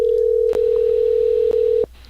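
A telephone tone hums steadily while a call is placed, one unbroken loud pitch with two brief clicks along the way, cutting off abruptly near the end and leaving quiet line noise.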